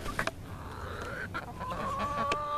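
A White Leghorn hen clucks softly and close by, with short murmuring calls and a drawn-out whine, under faint farmyard background noise.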